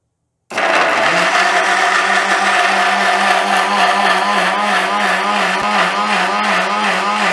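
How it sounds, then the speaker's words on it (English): A mixie jar grinding tomatoes into a smooth puree, a loud continuous motor whir that starts abruptly and holds steady with a slight wavering pitch until the end. "Now we will load this into a mixie jar and grind it to a smooth puree."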